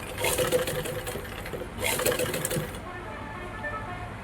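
A sewing machine stitches a bias strip onto a blouse neckline in two quick bursts of rapid, whirring stitching, close and fairly quiet, with a fainter mechanical hum trailing after.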